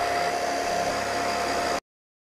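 A handheld blow dryer runs on full blast, a loud, steady whooshing roar with a constant motor whine that stops abruptly after almost two seconds.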